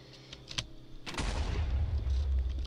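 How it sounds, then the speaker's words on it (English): An end crystal explodes in Minecraft 1.9 with a sudden loud blast about a second in, followed by a heavy, sustained rumbling roar. A few soft clicks come before the blast. "It is a very big explosion, so be careful when you're doing that."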